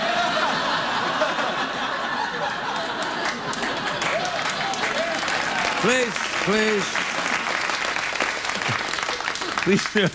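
A late-night talk show studio audience applauds loudly and continuously, with chuckles and laughter mixed into the dense clapping and a few voices cutting through.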